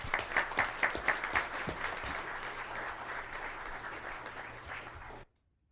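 An audience at a regular board meeting claps steadily for about five seconds, with a few sharper claps at the start, then the applause cuts off abruptly into silence.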